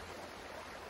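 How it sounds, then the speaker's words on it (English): Spring water running steadily over rocks and into a river, a faint, continuous wash of trickling and splashing with no break. "running water on all these rocks"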